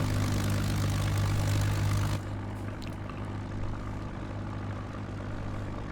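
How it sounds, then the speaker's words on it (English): Simulated Mig-3 propeller engine running in Microsoft Flight Simulator with a broken prop, a steady droning hum that drops to a lower, quieter idle-like level about two seconds in and continues evenly. "Engine is running."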